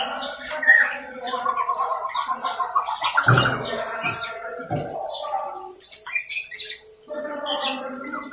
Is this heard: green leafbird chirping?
yes